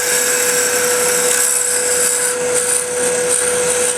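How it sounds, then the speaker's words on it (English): A parting tool made from a DeWalt saw blade cuts into a small piece of spinning wood on a lathe, a steady close high-pitched whine with continuous scraping hiss, no voices. "So this is my parting tool made out of a DeWalt saw blade"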